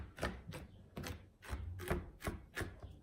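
A knife chops through dry granola ingredients on a board, about eight distinct thudding strokes in an uneven rhythm, close and fairly quiet.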